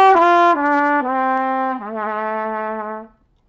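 Trumpet playing a short legato phrase of four smoothly connected, descending notes, clean and close with no gaps between them, heard alone before fading out.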